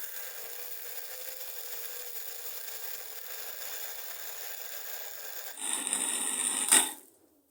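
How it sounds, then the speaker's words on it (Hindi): An electric hand mixer beats eggs and oil into chocolate cake batter, a steady whirring drone that roughens and grows louder near the end before cutting off abruptly. "अब हम मशीन को चलाएंगे और हमने इसको बीट करना है।"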